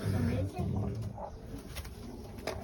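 Racing pigeon, a long-distance marathon bird, coos in low repeated rumbling notes close by, with people talking faintly around it.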